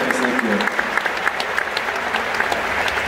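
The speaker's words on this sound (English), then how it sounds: "can we give a round of applause for everyone working in the back?" A concert crowd gives a loud, sustained round of applause, thick continuous clapping with a few sharper claps standing out, lasting throughout at close range.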